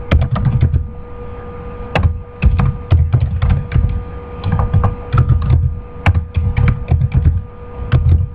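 Typing on a computer keyboard in bursts of quick clacking keystrokes separated by short pauses, over a faint steady hum, no speech.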